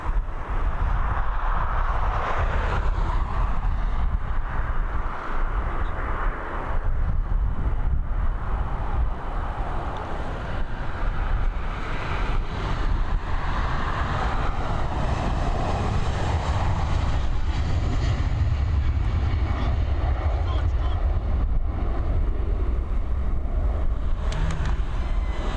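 An Aer Lingus jet, flight EIN 5XH, departs Dublin Airport for Malaga, its engines a continuous, heavy rumbling roar that holds steady and swells slightly over the climb-out, with no talking.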